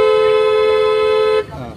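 Car horn sounded during a driving lesson on a one-way road, a single sustained loud honk lasting over a second, close by, then cut off into quieter road noise.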